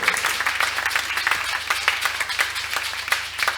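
A church congregation at a healing and deliverance service claps and applauds steadily, many hands together in a dense, continuous, fairly loud wash with no talking.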